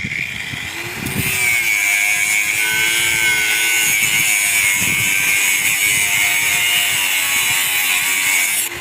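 Wood being sawn by hand in construction framing work, a continuous loud rasping saw stroke sound filling the whole clip with no talk.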